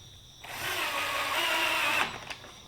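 Power drill driving pocket screws into clamped wood, one close whirring burst of about a second and a half that stops abruptly, followed by a brief click.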